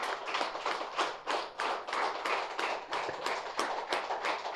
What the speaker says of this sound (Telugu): ఈ నిర్మాణానికి సహకరించిన మాస్టర్స్ అందరికీ గట్టి క్లాప్ చేసుకుందాం.